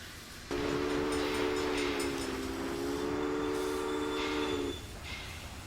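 Steam locomotive, a Union Pacific Railroad Dragon in the railroad strategy game Railway Empire, sounds a long, steady whistle for about four seconds over a rumbling running-train background, with no speech.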